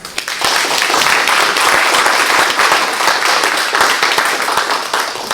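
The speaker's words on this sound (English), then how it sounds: "I would like you please to give a hand applause to welcome the author of Comforts of Silence, Jacquie Herz." An audience at a book reading in Lauderdale by the Sea welcomes an author with loud, steady applause, dense clapping filling the room without a break for several seconds.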